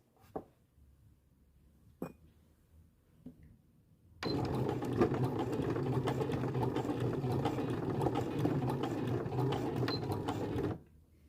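A sewing machine runs steadily for about six seconds, back stitching while sewing a lap zipper into a skirt, after a few quiet taps and handling sounds near the start.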